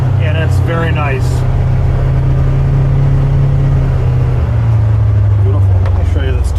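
A Polaris Xpedition ADV 5 Northstar side-by-side running loud and close, its engine drone holding steady and then shifting pitch partway through, with someone talking over it at the start and again near the end.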